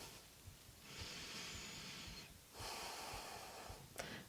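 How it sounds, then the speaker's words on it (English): Slow, audible breaths during a yoga back bend: a long inhale, then a long exhale, then another inhale with a short sharp sniff at the end, close and quiet with no talking. "One more full cycle of breath here."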